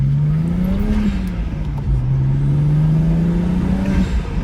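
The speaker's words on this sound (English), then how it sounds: "I just love the sound of the car," BMW 335i engine heard from inside while driving, a steady low drone that rises and dips gently with throttle, constant road rumble underneath, no talking.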